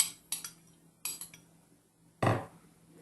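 A utensil mixing butter into a cheese paste in a bowl, giving three or four separate close scraping clinks with short quiet gaps between them, the last one heavier and duller.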